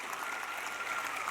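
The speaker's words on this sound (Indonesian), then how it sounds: "Tepuk tangan." Audience applause at a ministerial speech during a charity gathering for orphans: a steady, dense patter of many hands, moderately distant and even, with no break.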